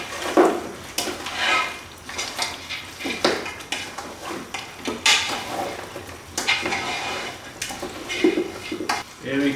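Chopped carrots being stirred into a pot of coconut beef stew, heard as repeated clanks and scrapes of a utensil against the pot in an uneven rhythm, with soft wet shuffling between strokes, close and clear.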